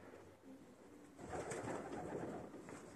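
Low, soft cooing of pigeons nearby, a murmuring call that swells in the middle and fades.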